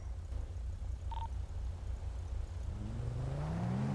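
Cars in a video game convoy pull away, a low rumbling engine idle that swells into a rising rev as the vehicles accelerate off, with a brief electronic beep partway through, fairly faint overall.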